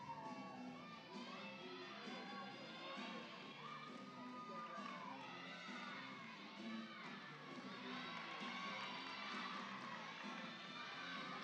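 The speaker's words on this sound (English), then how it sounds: "The crowd getting into it right away." A lively crowd cheers and shouts with children's voices mixed in at a college gymnastics meet between UC Davis and Sac State, a steady roar of excited yelling held at an even level throughout.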